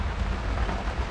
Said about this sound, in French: mais il pleut, il pleut, il pleut.